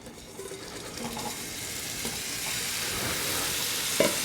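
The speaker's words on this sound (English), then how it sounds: "And I'm going to add my meatballs." Meatballs go into a hot pan and set off a sizzling hiss that swells and grows denser over a few seconds, with a faint scrape partway through and a small clink near the end.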